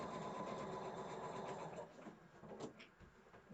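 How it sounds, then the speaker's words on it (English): A sewing machine stitching quilt block pieces runs steadily with a continuous mechanical whir, close and even, easing slightly near the end. "And then stitch one on top, one down, so I can stitch to the wider part."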